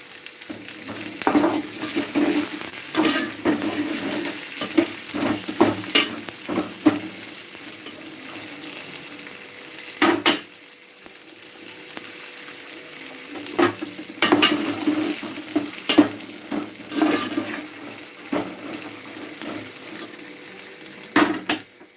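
Fresh raw corn kernels frying in a pan, a steady sizzle broken by repeated scraping and stirring strokes, fairly loud and close, with no talking.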